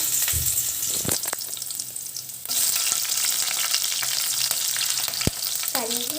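Garlic and green chillies frying in a pan with mustard seeds for a simple ladies finger stir-fry, a loud continuous sizzle with stirring scrapes and a few sharp clanks, no voices.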